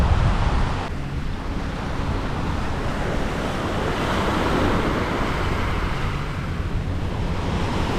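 Ocean waves washing onto a beach at Guraidhoo in the Maldives, a loud continuous rushing surf with wind buffeting the microphone, no talk.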